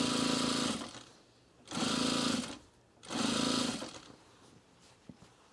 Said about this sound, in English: this curve makes it really easy to sew the binding